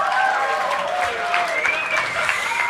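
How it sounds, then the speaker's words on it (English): An audience gives a round of applause for the Simon Community at a live music performance, a steady wash of crowd clapping, with a sustained tone and voices mixed into the background. "a big round of applause to Simon community"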